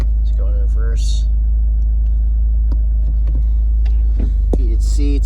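A 2023 Toyota GR Corolla with a six-speed manual sits with its engine running, holding a loud, steady low hum and rumble as it prepares to reverse. A person speaks briefly over it.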